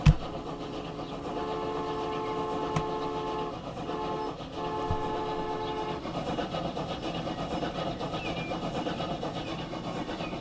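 A train runs in the video game Transport Fever 2, a steady droning engine hum with sustained tonal layers and a low rumble, close and even, with a couple of soft clunks along the way.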